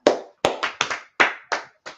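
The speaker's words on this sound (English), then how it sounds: "everybody clap it up for class, man" Hands clapping in a few sharp, separate claps spaced unevenly, close and fairly loud, with no talking.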